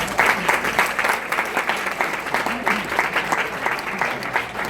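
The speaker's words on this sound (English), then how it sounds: "Once again, a big round of applause." Guests at a wedding reception applaud after a speech, a steady, fairly close wash of many hands clapping that holds for several seconds with faint voices underneath.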